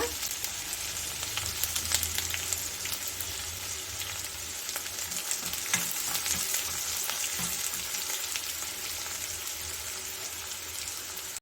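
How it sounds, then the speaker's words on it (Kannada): Chopped onion and curry leaves fry in oil with mustard seeds, giving a steady, dense sizzle with small crackles throughout, close up and with no talk. "ಎರಡು ಹಾಕೊಂಡು ಸ್ವಲ್ಪ ಕೆಂಪುಗಾಗುವವರೆಗೂ ಉಟ್ಕೊಳ್ಳೋಣ"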